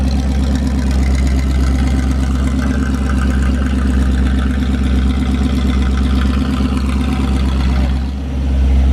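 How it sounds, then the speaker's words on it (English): A 1970 Plymouth Duster's 440 big block V8 idles loud and close, a steady deep rumble that runs unbroken for the whole stretch with only a brief dip near the end; no talk over it. "It even idles. Wow, that is loud."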